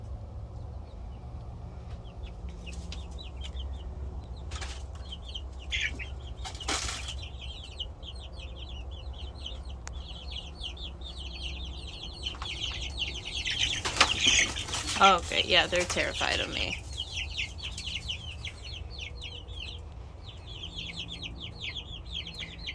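Chickens and roosters in a flock of about eleven birds cluck and chatter steadily, with a loud burst of flapping wings midway; a person speaks briefly over the birds.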